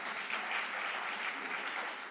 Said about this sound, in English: Give the person a round of applause.